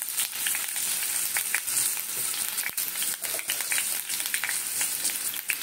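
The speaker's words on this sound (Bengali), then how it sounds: "সর্ষের তেলটা যে একটু গরম হয়ে যাবে, এইবারে জল থাকলে আলুগুলোকে দিয়ে দিলাম" Potato pieces dropped into hot mustard oil while cooking breakfast daliya, giving a steady, loud, crackling sizzle with fine popping spatters throughout and no talk.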